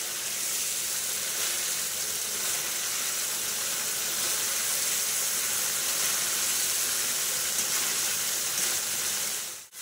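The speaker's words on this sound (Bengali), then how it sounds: "আমি এইভাবেই মশলাটা একটু কষিয়ে নেব।" Masala spices sizzle steadily in a hot pan while being fried for a hilsa fish curry, a dense, even hiss close by with no talking.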